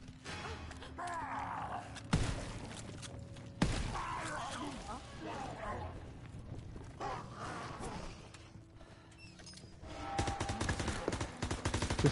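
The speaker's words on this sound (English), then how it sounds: "Combat shotgun, let's go." Shotgun blasts from a combat shotgun in Call of Duty: WWII, two sharp loud reports amid chaotic game battle noise, other gunfire and effects, with talk over the action.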